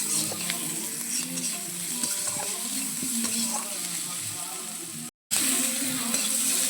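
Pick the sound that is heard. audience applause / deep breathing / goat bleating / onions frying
onions frying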